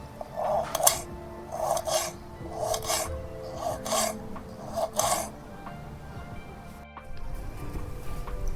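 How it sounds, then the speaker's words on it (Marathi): Green chilies sliced with a knife in a home kitchen, a series of about six evenly spaced crisp cuts against a board, close but soft, over faint background hum. "आता मी मिरच्या कापून घेते"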